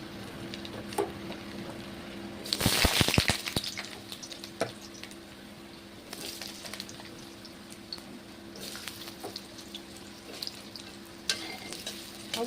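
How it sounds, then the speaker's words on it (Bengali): Cut potatoes fry in hot oil in a kadai (wok), giving a soft, steady sizzle that breaks into a brief loud burst of crackling and stirring before settling back to a low hiss. "আলুটা ভেজে নেব।"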